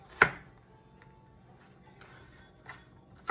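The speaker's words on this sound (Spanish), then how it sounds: "Voy a picar la cebolla, pedacitos bien pequeñitos." Onion is chopped into small pieces for a dry fish soup, with a knife striking the cutting board in three sparse, sharp knocks: one loud near hit early on, then two softer ones near the end. The room stays quiet in between.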